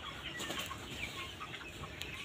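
Thirty-day-old broiler chickens in cold weather give soft, low clucks and murmurs across a busy shed, with faint overlapping calls and a little rustling, moderately close and without talk.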